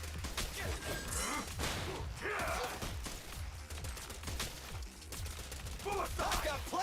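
Rapid gunfire bursts from a Zenless Zone Zero battle, dense and continuous across the whole stretch, mixed with game effects and shouted character voices.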